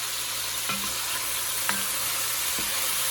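Meat for Tex-Mex chili browns in a pot with a steady, moderately loud sizzle, broken by a few light scrapes or stirs.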